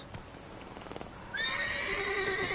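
A horse whinnies loudly in The Witcher 3, a long, shrill neigh that follows a few soft hoof clops and ringing game sounds.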